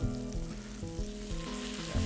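Pancetta, tomatoes and spring onions cook in a pan, a steady, close sizzle with occasional stirring sounds and no talking.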